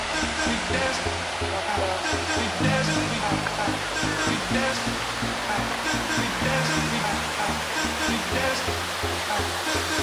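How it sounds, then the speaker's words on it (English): A waterfall in Khao Yai, Thailand, pours in a dense, steady rushing roar heard up close, unchanging throughout, with faint voices of people nearby mixed into the noise. "Just hear those water."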